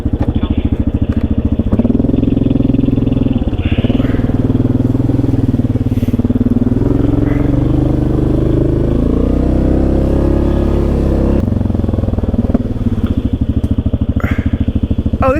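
A Yamaha ATV engine runs loud and close on a trail after being shifted into gear, a steady throbbing drone that rises in pitch as it accelerates midway, then eases back.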